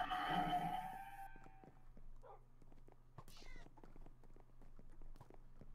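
A cat meows in the Minecraft Farm Hunt minigame, a short mid-pitched call standing out briefly amid game clicks, steps and background noise, with players talking nearby.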